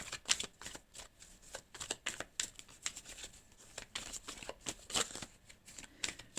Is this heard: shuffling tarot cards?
yes